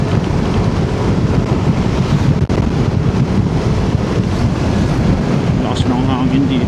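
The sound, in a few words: strong wind blowing on motorcycle ride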